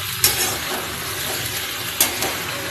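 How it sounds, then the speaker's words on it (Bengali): Hilsa fish heads fry in a pan with mustard, giving a continuous close sizzle and hiss broken by two sharp clinks of a spatula stirring against the pan. "মাথাগুলো দিয়ে ভালো করে কষিয়ে নেব"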